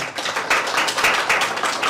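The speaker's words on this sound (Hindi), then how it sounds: "तालियों से स्वागत करें" A classroom group applauds to welcome a newly selected third-grade teacher, making a steady wash of many hands clapping with a few louder surges, and no talking over it.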